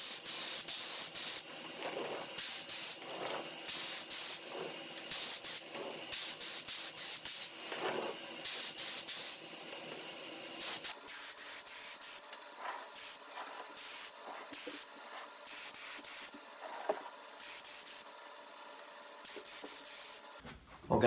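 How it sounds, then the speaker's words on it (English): Repeated bursts of spray hiss as polyurethane finish is sprayed on a wooden candle holder, each lasting a second or so, with brief pauses between them; close, steady and without talk. "right before I sprayed the polyurethane"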